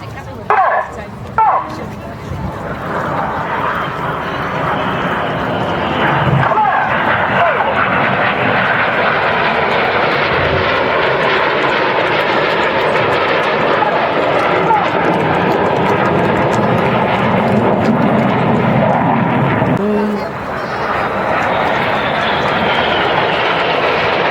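Display jets fly past at the Herne Bay airshow, their engines a loud, sustained roar that swells and holds for over twenty seconds, briefly dipping near the end, with commentary spoken underneath.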